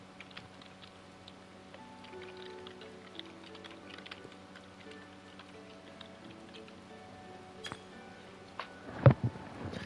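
Typing on a computer keyboard during a game session: a soft, irregular patter of key clicks continues throughout, ending with a few louder knocks near the end, with no talk.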